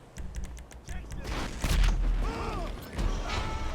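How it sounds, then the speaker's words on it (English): Rockets fired from an Oppressor hoverbike in the video game GTA Online, rapid clicking launches followed by booming blasts and mechanical whirring, with a voice talking over the action. "the bit where you're shooting rockets at me"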